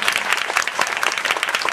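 Congregation claps during a Telugu Christian sermon, dense continuous applause from many hands, lively and even, with no talk over it.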